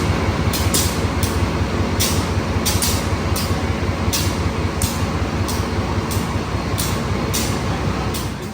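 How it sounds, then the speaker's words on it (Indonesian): The Dharmawangsa passenger train is coupled to its locomotive, built in 1983, as a steady loud mechanical rumble with a high whine and regular clanking pulses repeating throughout. "Kereta api Dharma Wangsa ini baru saja dipasangkan"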